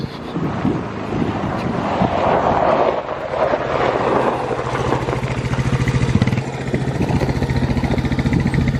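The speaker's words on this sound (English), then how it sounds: "Oh, the wind is," Gusty wind buffets the microphone outdoors on a wet spring farm day, a steady loud rumbling roar that swells and dips for the whole stretch with no talk over it.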